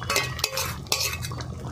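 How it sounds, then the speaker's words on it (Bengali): Stirring a pan of potato curry with garam masala gives soft scraping and a couple of sharp utensil clinks against the pan, close and brief over a faint background hum. "এটা দিয়ে কিছুক্ষণ নাড়াচাড়া করে তারপর নামিয়ে নেব"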